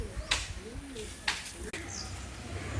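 Madrasi pigeons coo softly in short rolling phrases, punctuated by a couple of sharp brief snaps or flaps and a faint higher chirp, with a voice speaking nearby.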